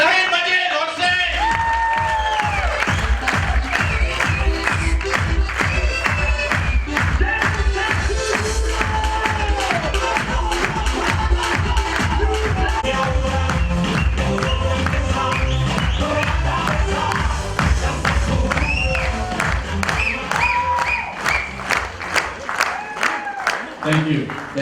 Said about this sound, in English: So please put a huge round of applause in welcoming Shaheen Majid on stage.